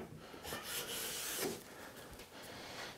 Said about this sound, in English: So these smoothing passes will not only dial in that perfect fit